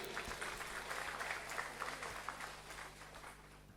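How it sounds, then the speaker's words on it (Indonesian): A large hall fills with applause at a university graduation ceremony, a faint, distant, continuous patter of many hands clapping that fades gradually toward the end. "Tepuk tangan untuk Unira."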